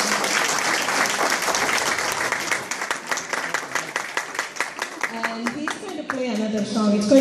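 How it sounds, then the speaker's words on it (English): Audience applause after a young pianist's performance rings out as brisk, fairly sparse clapping, thinning toward the end as a voice begins speaking over the last claps. "big round of applause"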